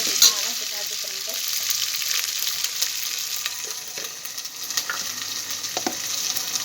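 Spices fry in oil for a village-style chicken curry, a continuous close sizzling hiss with scattered crackles and occasional stirring knocks.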